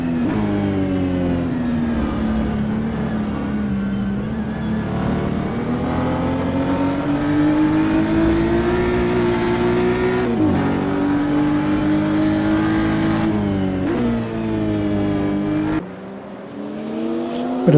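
A BMW M2 CS race car in a racing simulator at Portland, its 3-litre V6 droning steadily at high revs, pitch rising and falling through gear changes before dropping off near the end.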